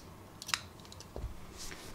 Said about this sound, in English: I'll chain 1, then I'll cut this yarn.